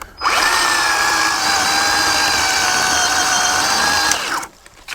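Harbor Freight 10-inch electric chainsaw running at a steady high whine for about four seconds, close and loud, then cutting off sharply near the end.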